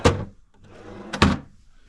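A drawer in a hotel room opens and shuts, giving two distinct wooden thunks about a second apart, close and fairly loud, with a quiet room tone between them.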